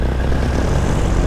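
A paramotor engine roars loud and steady during launch. The droning propeller noise stays close and unbroken throughout, with no voices over it.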